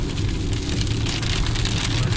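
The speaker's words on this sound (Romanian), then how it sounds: "Să mergi, să te bucuri de această ploaie." Rain drums densely and steadily on a car driving in Egypt, a loud hissing patter layered over a low road rumble from the moving vehicle.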